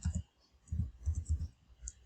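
Computer keyboard keys are pressed for a shortcut in MS Word, giving a handful of soft, close clicks in quick clusters with short pauses and no talking.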